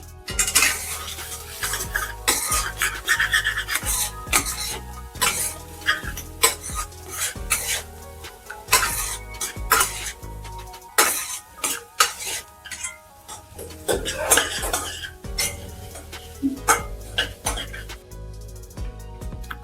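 Coconut rice being stirred and fried in a pan: steady scraping and clinking of a metal spoon against the pan in quick irregular strokes, with a faint sizzle underneath and someone speaking over it.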